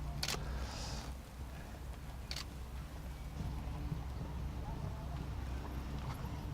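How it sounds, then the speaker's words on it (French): Horse hooves clip-clop at a steady walking rhythm on an arena surface at a dressage event, the stallion moving at moderate distance beneath continuous low ambient rumble and faint background voices. "C'est un cheval entier"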